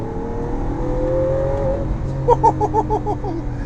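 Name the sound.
Lamborghini Aventador V12 accelerating in third gear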